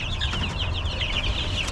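Young brown meat chickens, about three weeks old, cluck and chirp in a brooder, a near, busy chorus of repeated calls over a low constant hum.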